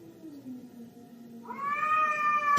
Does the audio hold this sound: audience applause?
no